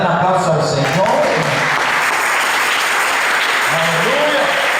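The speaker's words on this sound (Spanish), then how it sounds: "Dale un aplauso al Señor." A church congregation applauds during a sermon, with sustained, loud clapping under a voice that speaks and calls out over it.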